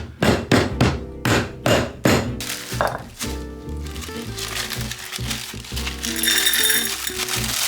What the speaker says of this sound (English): Just gonna pop them a few times to crack everything open